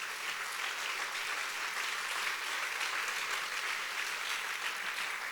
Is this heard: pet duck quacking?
no